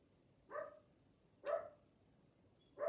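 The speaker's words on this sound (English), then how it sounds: "I feel like he is barking literally at the wind" Three faint, separate dog barks at a steady interval on a very windy day, sounding somewhat distant over a quiet background.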